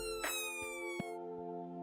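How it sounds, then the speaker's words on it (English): Emergency vehicle siren on a road, a strong steady multi-tone wail carrying throughout with a few brief louder pulses, the vehicle fairly close and no talk. "When the siren goes on again, that's your cue to let it go past."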